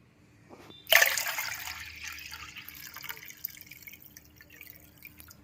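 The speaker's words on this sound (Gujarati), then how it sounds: "ચોખાને ને દાળને ધોવી ફરજિયાત છે." Soaked rice and urad dal are washed in water in a kitchen: a sudden pour or splash of water, then a decaying run of trickling, swishing and dripping sounds, close and alone.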